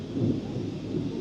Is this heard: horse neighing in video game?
no